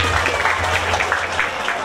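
Wedding banquet guests clap in a brief burst of applause, a dense patter of many hands under a low hum of room noise and voices.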